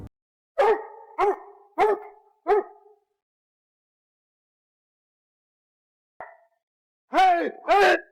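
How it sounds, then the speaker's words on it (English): Hunting dogs bark at a cornered boar, four sharp barks in quick succession, a pause, then a single yip and two more loud barks close by. "Once the dogs finally cornered the animal and alerted the group"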